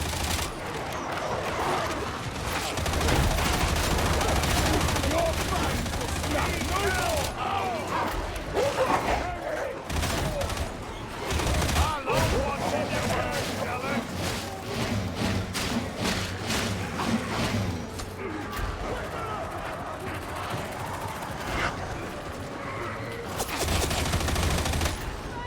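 Auto-gun fire and grenades in the video game Darktide crackle in dense, rapid bursts, loud and continuous with short lulls, over a busy combat din and an occasional voice.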